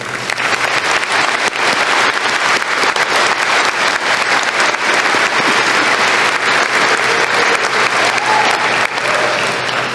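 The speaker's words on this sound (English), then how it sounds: "Please join me in applauding our passionate and dedicated faculty and staff." Sustained, loud audience applause fills a high school graduation ceremony hall, a dense steady clatter of many hands clapping for faculty and staff that continues unbroken throughout.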